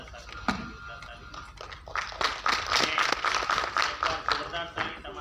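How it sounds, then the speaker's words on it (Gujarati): Audience applause breaks out in a seminar hall in Amreli, a dense patter of many hands building after a speaker's call and continuing over his amplified voice. "બધા સાથે જોરદાર તાળી"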